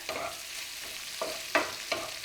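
Eggs and egg yolks with garlic are stirred in a bowl, giving a few soft scraping and tapping strokes against a steady background hiss.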